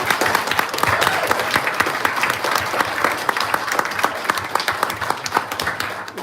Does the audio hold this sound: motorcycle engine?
no